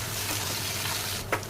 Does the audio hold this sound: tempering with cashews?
yes